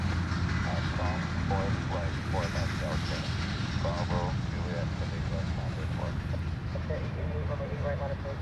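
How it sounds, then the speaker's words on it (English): A Hawaiian Airlines Airbus A330 arriving from Osaka at Honolulu airport makes a steady, loud broadband engine roar throughout, with someone talking over it. "The next one coming in is the Hawaiian 330. It is heading in from Osaka."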